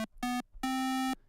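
Chiptune square-wave notes from the Magical8bitplug2 synth plugin, evoking old NES and Game Boy consoles: three buzzy, hollow beeps, two short and one longer, played alone and loud.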